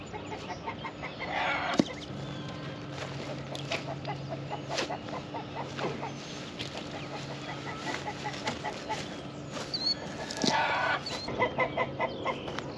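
A flock of chickens out on a pasture shared with pigs clucks and murmurs in scattered bursts, with a few louder calls standing out above a soft, steady background.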